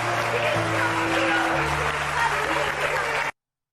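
A studio audience applauds on a Turkish television talk show, a dense, steady clatter of clapping with voices over it, cutting off abruptly after about three seconds.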